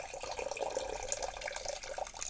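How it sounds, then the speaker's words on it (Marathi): Water splashes and trickles into a cooking pot, a steady pouring with bubbly, gurgling texture, close by and moderately loud. "आता आपण ह्याच्यामध्ये पाणी टाकूया"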